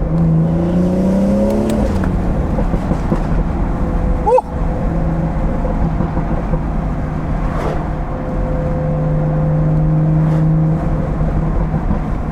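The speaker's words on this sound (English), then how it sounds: "The exhaust tone is just perfect." A stage 2 BMW 440i exhaust accelerates on a backroad, its steady engine drone rising and falling with a couple of sharp pops and crackles near the middle, loud and close throughout.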